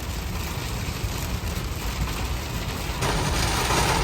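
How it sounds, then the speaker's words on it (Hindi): Heavy rain pours down outdoors at a petrol pump, a dense continuous hiss that grows louder partway through. "ओ बारिश और बढ़ गई।"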